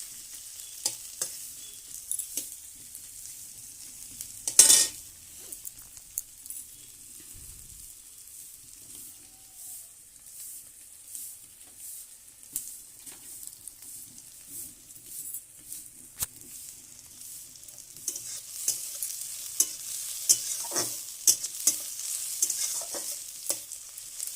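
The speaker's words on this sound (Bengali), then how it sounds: "এখানে কড়াইয়ে পেঁয়াজের উপরে পেঁয়াজটাকে ভালো করে ভেজে নিয়ে" Onions frying in a kadai while being stirred, heard as a faint, steady crackling sizzle dotted with soft scrapes and clicks, with one louder scrape early on and livelier crackle toward the end.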